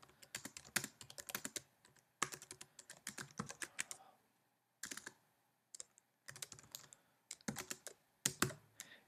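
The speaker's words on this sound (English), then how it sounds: "I'll type what I'm going to write." Fingers tap on a computer keyboard in close, crisp bursts of rapid clicks. Brief silent gaps split the bursts, and no voices are heard.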